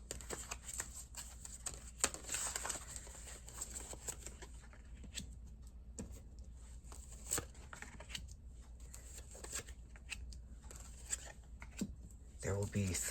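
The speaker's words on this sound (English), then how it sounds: "I'm going to start by shuffling your deck." Quiet, continuous rustling and soft flicking of a tarot deck being shuffled, with a faint voice in the background.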